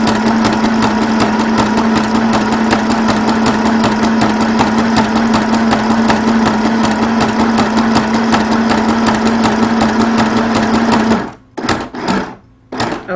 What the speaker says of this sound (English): I'm going to do a zigzag stitch almost to the very end